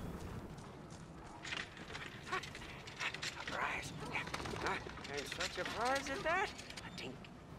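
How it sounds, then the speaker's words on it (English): A dog caught in a trap in the Mad Max video game whimpers and yelps in a burst of rising, wavering cries over rumbling game ambience. "The dog got caught in a trap."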